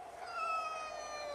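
A cat yowls in one long, drawn-out caterwaul during a backyard standoff with a raccoon, steady and fairly close with no talking.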